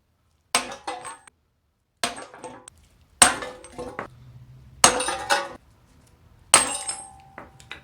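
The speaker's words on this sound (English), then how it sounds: "To push the wheel hub away from the bearing, I use a socket and a big hammer and just whack it out." A big hammer drives a socket against the front wheel hub of a 2005 Acura TSX to knock it out of the bearing. The sharp metallic strikes come in five separate clusters, each with a ringing clang and quick rebounds, separated by short pauses.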